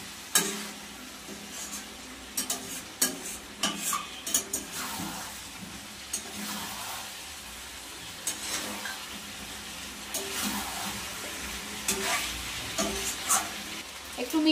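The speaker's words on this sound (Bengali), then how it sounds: "এই যে গরম জলটা দিয়ে দেবো" Hot water is poured into a pan of spicy red chicken curry with potatoes and stirred, giving a steady close sizzle with scraping stirs and clinks over a continuous simmering hiss.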